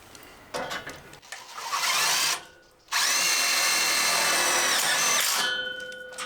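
A power drill with a small drill-bit-tipped tech screw whirs loudly in sustained bursts, revving up, pausing briefly, then driving steadily again before winding down.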